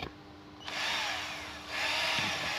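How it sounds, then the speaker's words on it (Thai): An electric drill bores a hole in a louvered window panel while fitting a drain pipe for a Hisense 12000 BTU air conditioner. Two loud, close bursts of whining, grinding drilling are split by a brief dip. "แล้วเราก็สว่านเจาะรู"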